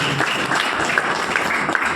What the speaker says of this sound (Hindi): एक बार दमदार ताली हो जानी चाहिए।